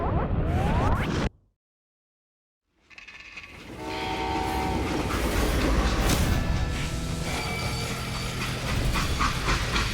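A video game train in a Western setting: a loud rumble that cuts to silence, then a rolling train with hissing steam and tonal whistle-like squeals building steadily and continuing, close and prominent.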